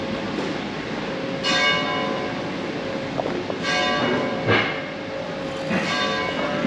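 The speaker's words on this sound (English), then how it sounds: "You hear the bells, it's 12 noon today." Church bells ringing at noon across Palma, Mallorca: several resonant, widely spaced strikes with long humming decays ring out at a moderate distance over steady outdoor city ambience, with no voices.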